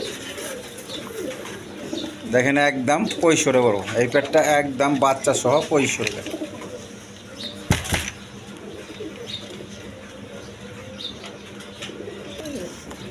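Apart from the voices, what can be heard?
Andalusian colour Danish pigeons cooing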